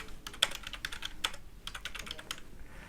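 Fingers type a name on a computer keyboard, close and clear, a rapid run of light key clicks with a few brief gaps, no voices.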